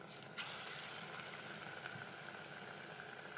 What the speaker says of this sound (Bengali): তেল গরম করে নিয়েছি, এখন বড়াগুলো বানিয়ে নেব।